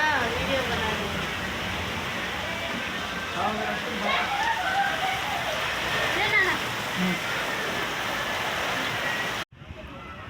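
Steady rain falls during a long walking pilgrimage toward Delhi, a continuous close hiss of drops on the ground that holds constant for about nine seconds and then cuts off abruptly.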